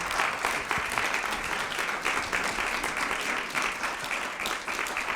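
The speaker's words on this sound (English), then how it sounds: "Let's have an applause again for us." Steady applause fills the room at a palliative care conference, a continuous, even patter of many hands at moderate distance, unbroken for several seconds.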